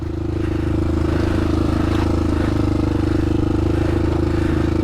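A 2007 Honda 400ex quad rides on a trail, its single-cylinder engine holding a loud, steady, pulsing drone with a faint rattle and scrape under it, close to the listener.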